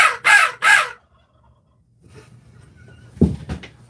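Turkey gobbles twice in quick succession, loud and fairly close, then quiet before some rustling and a short thump outdoors.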